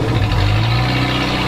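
A car engine fitted with a 123Ignition electronic distributor, running steadily after starting, a close continuous low idle rumble with no talk.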